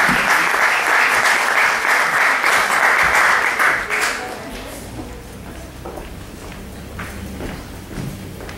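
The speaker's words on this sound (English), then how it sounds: "At this time, we want to have a round of applause" Audience applause welcoming a speaker at a public forum in Armadale: loud, dense clapping fills the first four seconds, then fades to a quieter room with scattered faint sounds.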